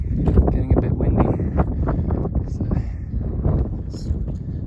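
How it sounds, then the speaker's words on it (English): Wind gusts steadily against the microphone on a mountain ridge near Mount Washington, making a rough, close rumble that never lets up, with someone talking underneath. "Getting a bit windy."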